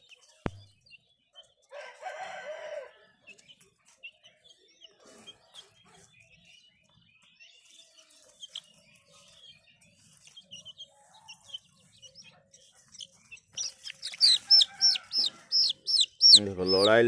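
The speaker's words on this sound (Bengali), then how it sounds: "এইগুলো হচ্ছে ওই টিয়েঠোঁটেরই মোরগ" Parrot-beak breed roosters cluck and call sporadically at a quiet distance, then burst into loud, close, repeated crowing toward the end, with a brief voice in the background.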